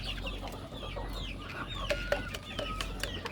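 Native chickens on a country chicken farm cluck in a steady, close-up chorus, with several short, sharp calls rising over the flock's continuous background murmur and no talking.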